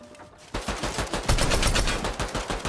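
Rapid automatic gunfire in a video game, loud and close. Dense bursts of shots run continuously after a short quieter lead-in.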